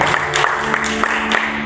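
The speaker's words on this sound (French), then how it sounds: "On l'applaudit bien fort" A crowd claps loudly for a singer at a casting event in Guadeloupe, a close, dense burst of applause that goes on throughout, with no talk over it.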